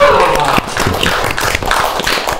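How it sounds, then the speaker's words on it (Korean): A studio audience claps together as a talk-show segment opens: a dense, steady patter of hands lasting a couple of seconds, close and fairly loud. "자, 설문 시작하겠습니다. 박수!"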